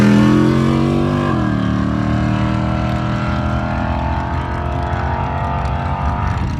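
Race car engine running during qualifying at a Montana racetrack, a loud, sustained rough roar whose pitch dips then slowly climbs as it holds steady close by, with no talking.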